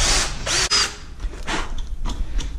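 A power drill bores holes for a spoiler extension install on a car bumper, in short separate whirring bursts with brief pauses between them, close and fairly loud.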